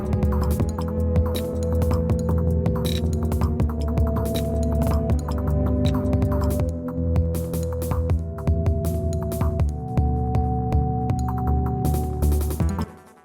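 Layered synth music from a Dirtywave M8 tracker, sustained tones and chords with a building reverb rise, playing continuously and loud throughout, no voices.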